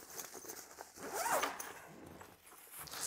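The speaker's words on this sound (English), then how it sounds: "So the zips come most of the way around" A zipper runs around the main pouch of a Razer Concourse Pro backpack in several quiet, rasping pulls, each a close, brief scratchy burst with short pauses between them.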